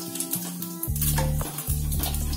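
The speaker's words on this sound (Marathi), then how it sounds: "त्यासाठी थोडी मेथी टाकायची फोडणी सगळी." Fenugreek powder tempering hisses and sizzles steadily in hot oil for a broad bean curry, with a continuous crackle under loud tonal background music.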